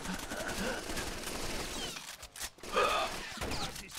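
Gunfire rattles in Rainbow Six Vegas 2, rapid overlapping bursts of automatic shots at moderate distance, with brief pauses and a breathy vocal gasp amid the firefight.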